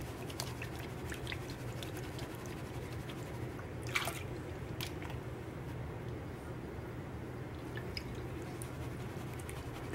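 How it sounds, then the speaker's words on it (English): Small rocks scrape and grind in a prospecting pan with water, a dense gritty churning and sloshing that goes on steadily at close range, with a few brief sharper clinks. "I can hear something scraping in the pan."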